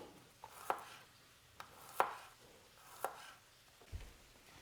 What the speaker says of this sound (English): the final ingredient in our gremolata is a garlic clove. What you want to do, you want to start by just slicing that up